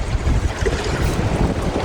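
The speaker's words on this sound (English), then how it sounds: "hold that thought for the wind and the water." Steady wind gusts buffet the microphone over rushing river water, a dense, continuous roar with strong low rumble and no voices.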